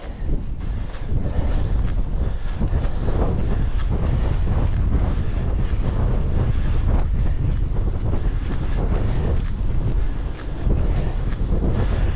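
Strong headwind buffets the microphone of a cyclist climbing uphill on a steepening road, a constant loud rumbling roar with gusty fluctuations throughout, no voices.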